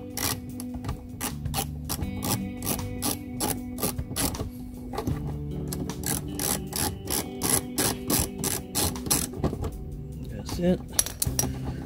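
A ratchet with a 10 mm socket loosens the bolt on a car fog light, rapid close metallic clicking running steadily throughout with brief pauses, no voices.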